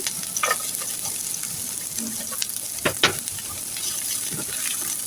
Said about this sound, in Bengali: তো আমি তিনটা শুকনো মরিচ আগে ভেজে নেব